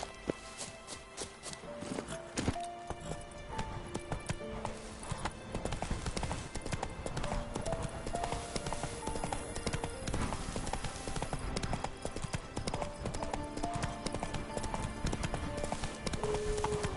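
Rhythmic hooves of a horse galloping in The Witcher 3, steady clip-clop running throughout over busy game music and ambient sound.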